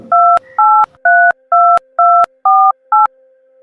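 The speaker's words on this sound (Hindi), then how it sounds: "इतनी देर से मैं फोन लगा रहा हूं" Mobile phone keypad dialing tones sound in a quick series of seven clear, evenly spaced beeps over a faint steady tone, loud and close with no talking.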